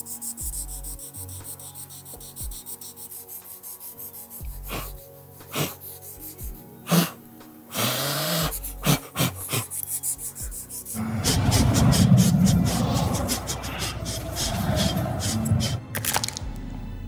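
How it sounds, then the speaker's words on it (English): Steel sword blade being hand-sanded along its fuller, a long scraping rub that grows louder and denser in the second half, with scattered knocks and handling noises in a workshop. "I just finished sanding both ends of the Fuller, the time-consuming parts."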